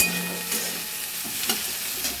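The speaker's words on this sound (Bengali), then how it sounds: "এবার এই সবজিগুলো নেড়ে নিচ্ছি একটুখানি ভাজা ভাজা করে" Vegetables being stirred and fried in a pan, a steady close sizzle with scraping spatula strokes recurring at a loose rhythm throughout.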